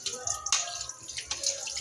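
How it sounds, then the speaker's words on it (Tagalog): Liquid drips and trickles as grated coconut is squeezed by hand to extract coconut milk for ginataang tilapia, a few close wet splashes and drips over a short moment. "ako na nagpiga ng sarili ng gata."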